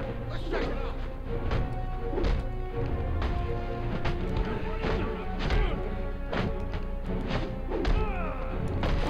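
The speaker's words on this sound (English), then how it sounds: "Sounds like a fight!" Brawl in Batman: Arkham Origins on PC, with repeated thuds, smacks and crashing blows landing at an irregular fast rhythm over steady game music, loud and close throughout.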